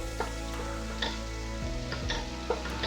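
Chopped celery sizzles steadily in a frying pan during a cockle catch-and-cook, with a few light clicks of a spoon stirring it through. No one speaks over the close, continuous frying.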